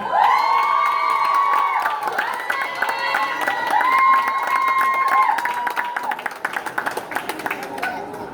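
A crowd at a Rhodes Hall High School leaving ceremony applauds steadily, with loud cheering and whoops at first. The voices then fade, leaving scattered, sharper claps toward the end.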